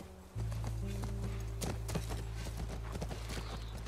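Horse hooves clip-clopping on the ground near a ranch in The Last of Us, a steady walking rhythm of hoof strikes heard fairly close over a low sustained ambient music drone.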